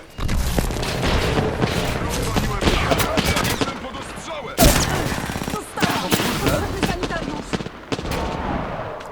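In Apex Legends, heavy gunfire comes from close range while a player is pinned down: dense, continuous bursts and booming impacts with a loud crack midway, mixed with game noise and some speech.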